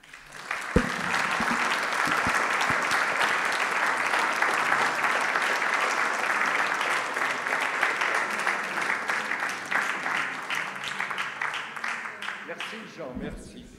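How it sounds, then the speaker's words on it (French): Sustained audience applause after a talk, steady and dense for about twelve seconds, beginning with a few separate claps and fading out at the end. "on l'applaudit"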